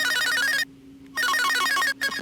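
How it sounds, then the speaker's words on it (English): A bright, buzzy Arturia synth preset plays a phrase with rapid stepping notes in two bursts separated by a short gap, harsh and saturated, with no voices. "just a super duper saturated little preset from this Arturia synth"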